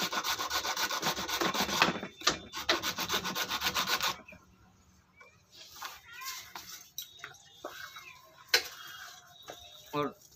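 Hacksaw with a worn blade cutting through a bike side-mirror part, a steady loud rasping stroke for about four seconds, then quieter scraping, clicks and handling noises with brief gaps.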